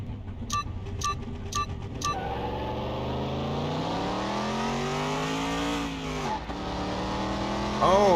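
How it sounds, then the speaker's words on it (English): Chrysler 300 with a Hemi V8, untuned, racing in Car Mechanic Simulator 21: a loud, continuous engine drone that climbs steadily in pitch through the gears, briefly dips and rises again, with a few sharp clicks at the start. "our next race is the Chrysler 300 with that Hemi with no tuning"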